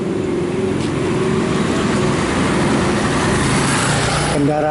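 Cars, trucks and buses pass along a quiet city street in Medan, a continuous loud wash of engine and road noise close by, with someone talking over it.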